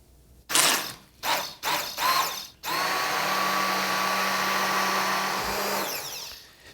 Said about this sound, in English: So I'm just gonna use an immersion blender.